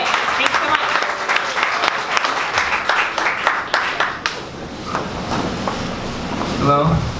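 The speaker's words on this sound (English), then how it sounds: "Big round of applause." Applause at a Dallas startup pitch event, a room of people clapping loudly for about four seconds before it thins out into scattered claps, shuffling and murmurs.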